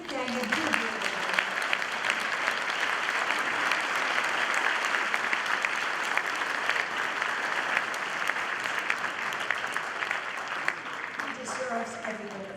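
An audience at a Holocaust memorial program gives a Holocaust survivor a loud, sustained round of applause, dense clapping filling the hall for over ten seconds, with a voice emerging as it dies down at the end.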